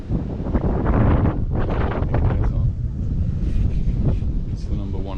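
Strong gusts at a car park in Palmanova, Majorca, buffeting the microphone in loud, continuous roaring blasts that dominate the clip.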